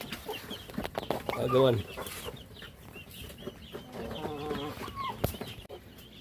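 Chicks and chickens cluck and peep while being fed on a small farm, a burst of louder squawking early on, then scattered clucks with brief talk nearby.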